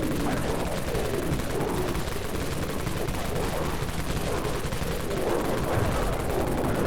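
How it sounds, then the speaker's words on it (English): Exploder weapons fire in Dead Frontier, a dense rapid stream of crackling gunshots running continuously and evenly at moderate loudness with no pauses. "There's my first hit with the exploders."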